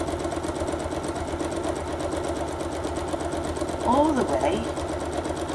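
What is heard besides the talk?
sewing machine stitching quarter inch seam on pot holder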